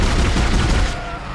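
Rapid bursts of gunfire in the video game Dead Space crackle in a dense, continuous stream, loud and close, then trail off toward the end.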